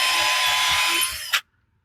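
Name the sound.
power drill drilling through wood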